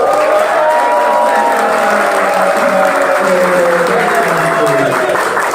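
An audience applauding after a QCC presentation at a TM Club 2022 convention: steady, loud, sustained clapping from a large crowd, even throughout, with no voices standing out.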